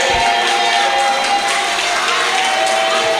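A church congregation at a prayer retreat clapping and cheering together, a dense continuous wash of hands and raised voices filling the hall, loud and close throughout.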